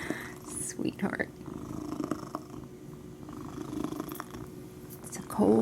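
A domestic cat purring close by indoors on a cold, rainy day, a soft steady rumbling drone throughout, with someone speaking quietly over it at moments.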